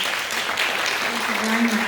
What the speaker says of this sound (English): I'd like everybody to give you an applause because you have done a great job.